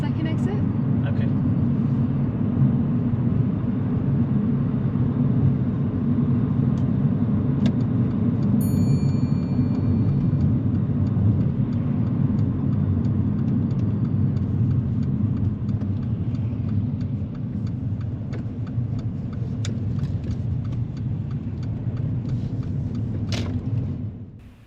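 From inside a car on a driving test, a steady engine drone and road rumble hold level while the car takes a roundabout, with faint clicks on top and the sound easing off at the very end.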